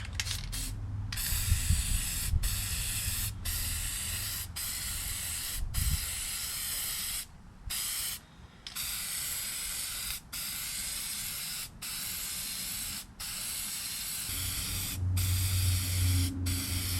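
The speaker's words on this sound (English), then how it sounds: "I'm going to try using Permatex copper spray gasket for the head gasket." Permatex copper spray gasket hissing from an aerosol can onto a head gasket for a Suzuki Samurai diesel, a long steady spray broken by short pauses, close and alone.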